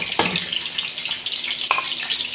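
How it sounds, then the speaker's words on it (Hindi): Chopped onions tossed into hot oil let out a loud, steady, close sizzle. A couple of brief scraping knocks from a spoon cut through the hiss, and no one speaks. "यहाँ पर जनाब हमारा ऑयल गर्म हो गया। अब इसमें डाल दिए मैंने सारे प्याज"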